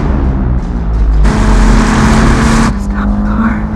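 A car roars past fast with a loud surge of engine and tire noise that swells mid-clip and cuts off abruptly, set against a low musical drone in a film trailer.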